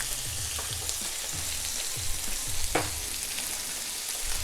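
Chicken liver frying in butter in a pan, a dense constant sizzle and crackle up close with a few soft stirring knocks, no one speaking.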